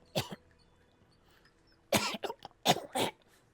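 A horror tabletop role-playing session: one short cough, then a pause, followed by a cluster of harsh, rasping coughs and throat-clearing, close and fairly quiet, with no talk.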